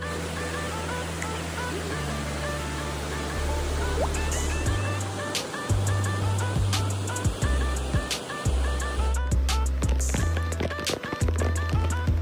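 Kalu waterfall in the Sahyadri rain forest gives a steady broadband rush of falling water, with scattered clicks and knocks over it and no talk.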